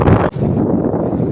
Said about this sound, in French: Il y a vraiment beaucoup de vent